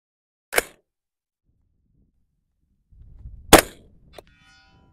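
Supersonic 300 Blackout rifle fired at a distant target in right-to-left wind: two sharp, loud cracks about three seconds apart, the second with a short rumbling tail, then a fainter clack, with quiet in between.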